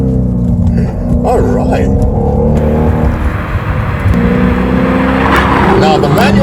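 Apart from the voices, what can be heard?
2012 Hyundai Genesis R Spec downshifting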